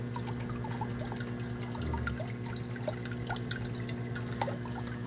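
Water from a simple homemade aquarium filter falls and splashes steadily into the tank, with a soft, continuous bubbling trickle and scattered drips over a low hum.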